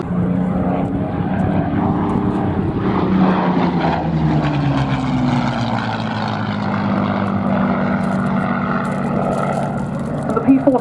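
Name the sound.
Curtiss P-40 fighter aircraft propeller engine at an airshow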